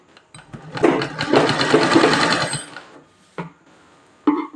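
Sewing machine stitching a girl's frock, running in a steady rapid whir for about two seconds, then stopping, followed by a couple of short bursts of stitching, close and clear.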